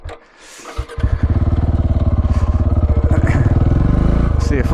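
A four-wheel drive vehicle passing on a sandy desert track in the Simpson Desert, heard from a dirt bike: a loud, close, rhythmic engine drone that builds after a brief lull and holds steady, with a voice talking over it.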